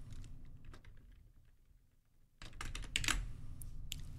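A file name is typed on a computer keyboard. A few sparse key clicks come first, then a quicker, louder run of close tapping in the second half.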